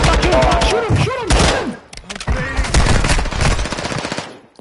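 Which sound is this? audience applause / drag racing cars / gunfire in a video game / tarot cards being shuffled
gunfire in a video game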